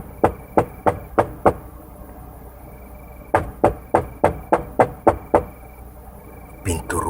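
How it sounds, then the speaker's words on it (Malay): Loud knocking on a house door in a horror story scene: two bursts of sharp, heavy raps, about five then about eight knocks in a steady quick rhythm, close and alone against near silence. "Pintu rumah diketuk kuat."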